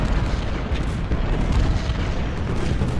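Distant artillery fire in a Ultimate General: Civil War battle at First Manassas, a continuous low rumble of booms from long-range counter-battery cannon, dense and steady throughout with no talk.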